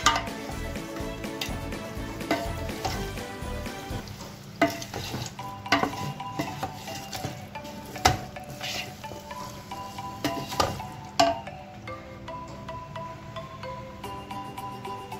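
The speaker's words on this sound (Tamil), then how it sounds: "சிக்கன் இதோட நல்லா திரட்டி விடணும் மசாலாவோட" Chicken pieces are stirred with masala in a pan for a Coimbatore-style chicken dum biryani, with steady sizzling and frying under repeated scraping and clinking of a utensil against the pan.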